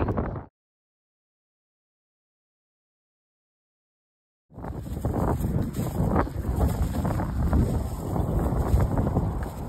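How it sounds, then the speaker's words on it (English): Strong wind buffets the microphone outdoors in heavy, continuous rumbling gusts, after a short burst and a few seconds of dead silence. "This wind's crazy, y'all."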